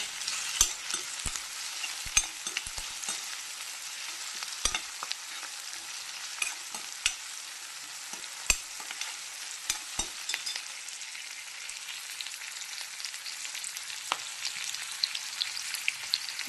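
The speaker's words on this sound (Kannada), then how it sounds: "ಇದು ಟೊಮೆಟೊ ಈರುಳ್ಳಿ ಎಲ್ಲ ಸ್ವಲ್ಪ ಫ್ರೈ ಆಗಲಿ." Tomato and onion frying with curry leaves for crab sukka, a soft steady sizzle punctuated by sharp spatula taps and scrapes at irregular intervals.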